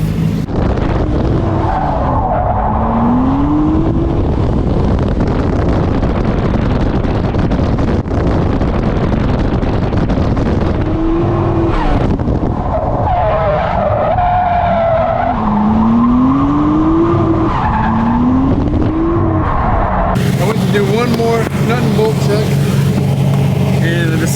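A car driving hard at a summer car meet, tires squealing in repeated rising skids over a loud, steady engine roar, with talk running underneath.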